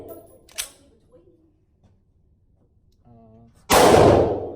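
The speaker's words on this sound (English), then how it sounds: "let's keep shooting the Stoeger" A Stoeger STR9 9mm pistol fires a single loud, sharp shot near the end, preceded by a faint metallic click and a brief voice in a quiet outdoor range setting.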